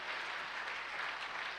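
A church congregation at a worship service claps steadily in praise of Jesus, a dense continuous wash of applause with no talking heard.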